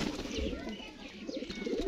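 Pigeons cooing near a red tail-marked pigeon offered for sale among fancy breeds, soft repeated low coos running continuously through the short stretch with some background chatter.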